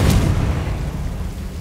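Confringo explosive spell blast in Hogwarts Legacy: one loud, close boom with a sharp crack at the onset, then a long rumbling low-end tail that slowly fades.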